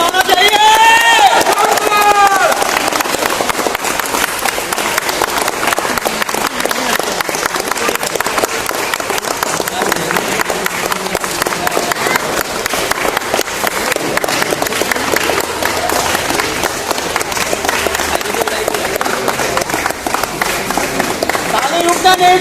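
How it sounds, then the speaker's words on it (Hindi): Sustained applause from a large audience at a ceremony for an award, dense and continuous clapping filling the whole stretch with crowd noise mixed in, no clear pause. "ताली रुकना नहीं चाहिए।"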